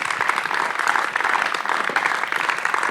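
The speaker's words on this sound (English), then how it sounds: "Could we all give a round of applause to our panellists?" An evening creative forum audience applauds its panellists with steady, dense clapping that fills the room, moderately loud and continuous throughout with no talking over it.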